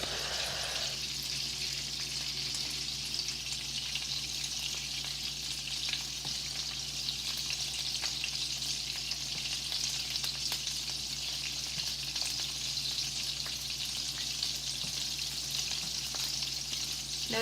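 Homemade meatballs fry in a shallow layer of oil in a pan, giving a steady, loud, continuous sizzle and crackle that holds evenly throughout with no talking.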